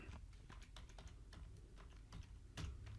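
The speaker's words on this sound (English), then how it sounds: "let's type in a new password." Someone types a password on a computer keyboard, a quick irregular run of soft, close key clicks with brief pauses between bursts.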